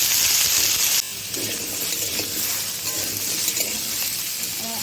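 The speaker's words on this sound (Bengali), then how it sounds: "এবার ভালো করে নাড়াচাড়া করে ভেজে নেব।" Diced potatoes and kohlrabi frying in oil in a pan, a loud steady sizzle that drops a little after the first second, with faint stirring and scraping underneath.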